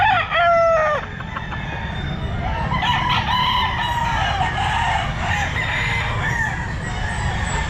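A stag rooster at a pet market crows loudly and close up at the start. Softer clucking and other fowl calls follow under steady market background noise.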